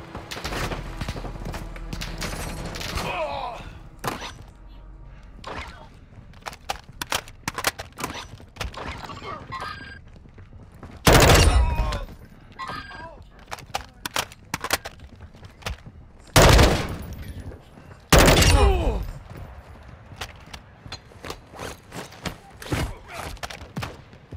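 Gunfire in Call of Duty: Modern Warfare II, with scattered shots and short bursts plus three loud, heavy blasts near the middle and end, mixed with game sounds and occasional voices.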